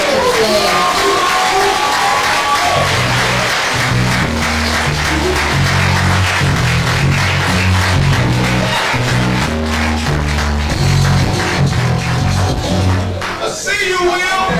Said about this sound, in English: Clap him all the way up to the stage.